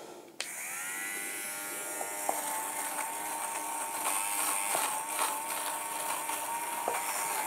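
Electric shaver buzzing steadily close up as it trims fuzz and lint from the yarn of a wool rug, a continuous bright hum with slight shifts in pitch as it moves across the pile.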